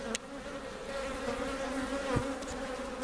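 Honeybees buzz densely inside a crowded seven-frame hive full of brood, a steady close hum with a few louder bee passes.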